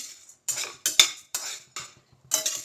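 Chana dal dry-roasting in a pan, a spoon scraping and rattling the lentils in six or seven distinct strokes with short pauses between, close and fairly crisp, no other sound.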